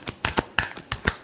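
Tarot cards being shuffled by hand, four or five quick crisp riffles in a rapid uneven rhythm, close and alone.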